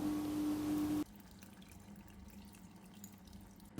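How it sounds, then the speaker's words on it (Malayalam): Soaked tamarind water poured into a bitter gourd curry makes a steady, close liquid rush for about a second, then cuts off, leaving only faint trickles and quiet kitchen ambience. "ഇനി ഇതിലോട്ട് നമ്മൾ നേരത്തെ കുതിർത്ത് വെച്ചേക്കുന്ന പുളിയിൽ വെള്ളം ചേർത്തെടുക്കാം"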